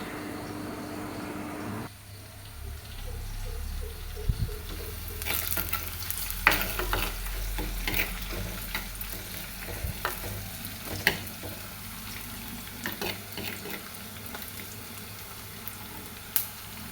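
Onions sauté in a pan for fish curry, a continuous frying sizzle with repeated scraping and clinking from a stirring spoon, quieter at the start and busier later.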